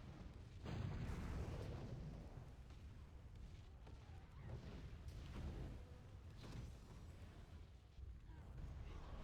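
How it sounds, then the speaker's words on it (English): Artillery barrage in a video game: a very faint, continuous rumble of low booms and blasts rolling on throughout, with no distinct individual impacts. "Begin the barrage."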